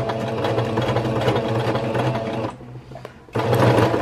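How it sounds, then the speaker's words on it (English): A sewing machine stitches straight along a fabric strap seam on a homemade onesie outfit, running steadily and loudly, stopping briefly, then starting up again as it reverses and goes forward. "And then I will sew straight until I connect with the seam on the strap."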